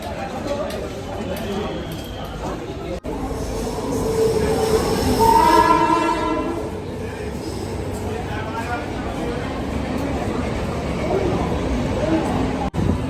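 A train rumbles at a station platform in Dombivli with a steady roar, a squealing tonal whine rising midway, and people talking in the background throughout.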